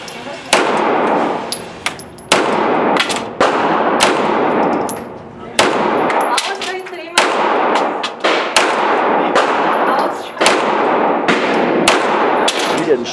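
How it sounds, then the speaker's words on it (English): Rapid repeated shots from a Smith & Wesson M&P pistol during a torture test, loud sharp reports fired in quick strings with brief pauses, metallic clangs between bursts. "Now we'll see how he does with his standard gun."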